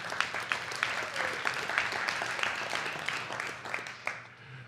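An audience applauds at a real estate investing talk, a sustained wash of many hands clapping at moderate distance that holds steady for several seconds before beginning to taper off.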